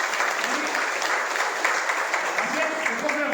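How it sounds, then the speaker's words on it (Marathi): Sustained audience applause at a bank loan distribution event, a dense, even clatter of many hands clapping throughout with a murmur of voices underneath. "आपण सगळे टाळ्या वाजून त्याचा एक करूया"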